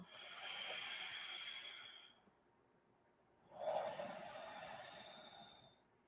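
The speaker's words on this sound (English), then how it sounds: "Deep breathing with sound flowing in and out of the body." Deep audible yoga breathing during Ashtanga practice: two long, hissing breaths through the throat, each lasting about two seconds, separated by a short pause. The breaths are close and soft, with no speech.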